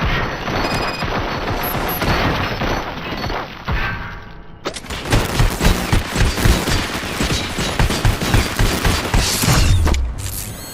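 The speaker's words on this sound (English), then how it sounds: "Fire at will." Gunfire in the first-person shooter Robocop: Rogue City crackles in dense bursts and thuds, loud and close, with mechanical clatter mixed in and a short lull before a heavier stretch of shots.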